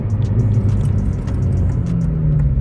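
A manual Honda Civic Si pulls away in gear, its engine giving a steady, close low rumble that swells slightly as the car moves off, with no talking over it.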